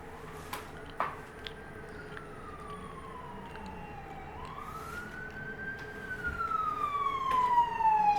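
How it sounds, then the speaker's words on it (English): An ambulance siren wails through a town, its pitch sweeping up and down in long rising and falling cycles, growing steadily louder as it approaches over steady background traffic noise. "Am I hearing a siren?"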